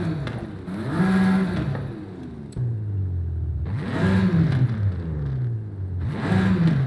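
A tuned BMW M4 engine with an upgraded exhaust revs in Forza Horizon 5, rising and falling in three repeated pulls, each climbing then dropping back to idle, loud and close with no talk.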